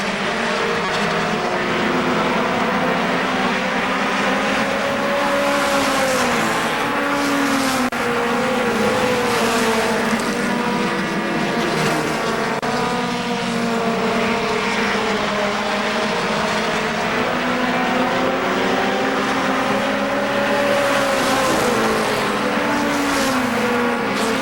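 Mini stock race cars in a late-laps feature at KilKare Speedway, a continuous loud roar of several engines rising and falling as cars circle the track, heard from the stands.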